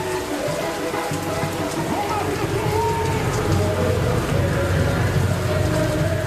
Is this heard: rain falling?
yes